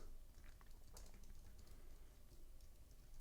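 Soft keyboard clicks patter in quick irregular bursts as someone types on a computer keyboard, faint and close, with a low background hum.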